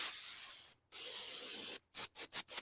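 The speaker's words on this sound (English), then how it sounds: "get our brake cleaner one more time, hose this off" Brake cleaner sprayed from an aerosol can onto Honda Pilot brakes, one long hissing blast and a second one, then several quick short bursts, close and alone.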